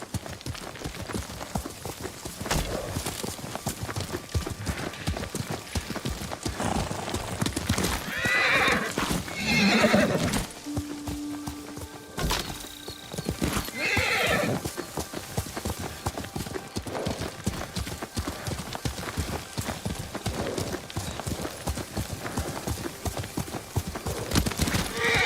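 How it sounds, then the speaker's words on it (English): Rhythmic horse hooves clip-clop steadily throughout a ride in the video game Ghost of Tsushima, with a horse whinnying midway and occasional soft background game sounds. "Lord Sakai taught me to ride a horse."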